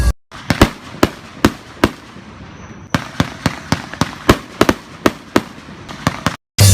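Sharp firework bangs and pops burst one after another at irregular intervals, loud and close, with brief quiet gaps between them.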